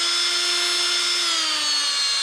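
A power drill runs steadily in low gear with a constant whine, close and loud. It is working a rusty cylinder from a Case 580CK backhoe, and the pitch sags slightly toward the end.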